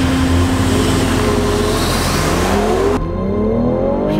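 A turbocharged BMW X3 in Sport Plus mode with traction control off launches hard in a drag race, its engine roaring loud and close as the pitch climbs steadily through the run.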